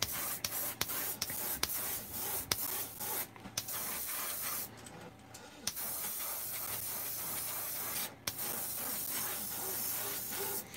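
Airbrush spraying chartreuse paint onto a fishing lure, a soft steady hiss of air and paint with short bursts and brief pauses as the trigger is worked, close and quiet, no talking.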